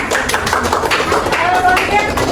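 A group of students gets a round of applause in a classroom: dense, steady clapping from many hands over about two seconds, mixed with voices and a few faint whistles.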